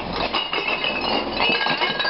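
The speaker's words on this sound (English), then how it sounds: "The loudest sound is just the glass." Recycled glass being crushed in a glass crusher, a loud continuous grinding roar full of dense clinking and rattling shards.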